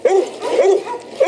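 A young American Pit Bull Terrier, around seven to nine months old, gives three short, close barks in a yard, spaced roughly half a second apart.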